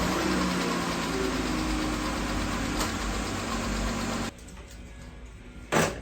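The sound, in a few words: Dodge Chrysler minivan 3.6 Pentastar engine idling, rocker arm ticking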